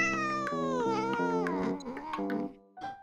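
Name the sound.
sick cat making a new meowing noise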